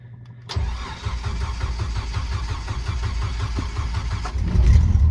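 A Jeep YJ engine cranks and catches after a brief quiet moment, then settles into a steady, slightly lumpy idle with a choke-related rise in loudness near the end.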